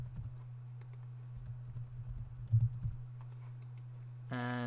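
A password is typed on a computer keyboard, producing a run of soft, quick, close key clicks over a low steady hum, ending with a brief tonal chime.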